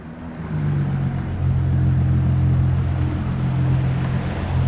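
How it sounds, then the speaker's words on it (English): Racing cars in the Underground Garage video game, a steady droning engine rumble with a low growl that swells after the first second and stays constant, like traffic streaming past. "Do you hear all the other cars?"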